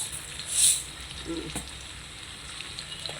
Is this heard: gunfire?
no